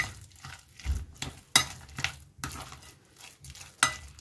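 A spoon mixes turmeric powder into leftover cooked rice, producing soft, irregular scraping and clinking strokes against the bowl, close and fairly quiet, with a few sharper knocks and no talking.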